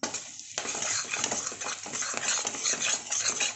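Whole spices, cardamom and cloves, are stirred and roasted in a hot pan on a gas stove, giving a continuous sizzling crackle with scraping spoon strokes, close and fairly steady.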